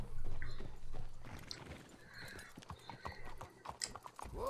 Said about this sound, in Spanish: Let's hitch your horses up ahead.